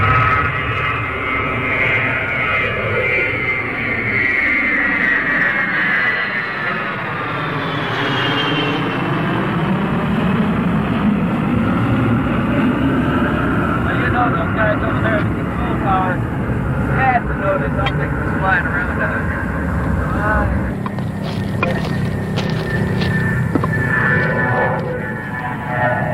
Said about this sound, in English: a C-141 coming this way to altitude. I'm gonna go right over.